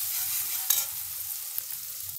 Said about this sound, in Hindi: और ये भी डालेंगे हरी मिर्च कटी हुई, इसको हम 1 से 2 मिनट के लिए भून लेंगे।